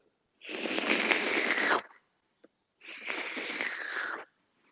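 A voice imitates sliding with two long breathy hissing swooshes, close up, separated by a short pause.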